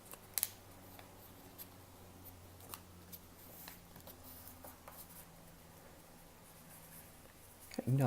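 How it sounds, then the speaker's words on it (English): Origami paper being folded makes soft close rustles and sharp creasing taps, with a few louder crinkles at the start and end under a quiet musical background. "We're just going to fold the bottom left to this point, the top right to this point."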